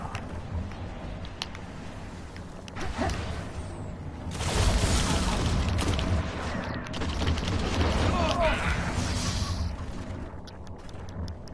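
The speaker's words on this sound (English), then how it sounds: "That guy stuck me with an ammo grenade." Ammo grenade explosion in a PS4 shooter amid ongoing gunfire, with bursts of rapid shots and a heavier blast swelling around the middle before the clatter of combat continues, some talk faintly underneath.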